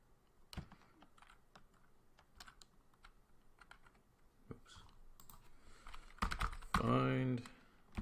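Keys tapped on a computer keyboard while entering a Linux command, sparse light clicks at first and then a quicker burst of keystrokes, with someone talking over the later part.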